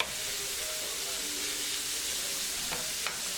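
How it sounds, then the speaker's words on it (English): Chicken sizzles and fries in a sauce pot on a back stovetop burner, a steady close hiss of hot oil with occasional soft stirring pops. "Now I'm gonna start frying the chicken on the back eye in that sauce pot."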